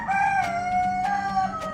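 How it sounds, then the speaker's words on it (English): A rooster cries out in a drawn, wavering call over about a second and a half, close and clear, in a date-palm courtyard near a wind tower in the historic port town of Kong, Iran. "Chicken."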